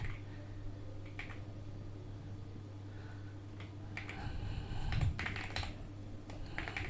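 Keys clack on a computer keyboard in scattered bursts, light and close, over a steady low electrical hum with no voices.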